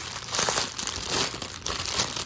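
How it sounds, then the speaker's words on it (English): Plastic packaging of craft supplies crinkles and rustles continuously in close handling, in uneven bursts of crackling with no talk. "Sorry for the rustling, but this is what you get."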